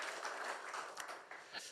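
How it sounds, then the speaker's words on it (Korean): A church congregation at a Sunday service applauds briefly, a faint, dense patter of many hands clapping at a distance throughout the short stretch. "우리 하나님께 영광의 박수 올려드리겠습니다."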